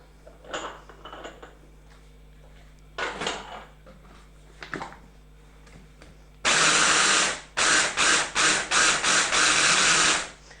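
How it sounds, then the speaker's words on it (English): A kitchen blender grinding falafel tikki ingredients in loud, coarse bursts, starting and stopping several times in quick pulses after a stretch of quieter kitchen handling noises. "Bas main enu blender naal blend kar lena."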